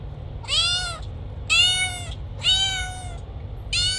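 A cat meows four times in a steady sequence, each call a clear, drawn-out mew with short pauses between, over a low background hum.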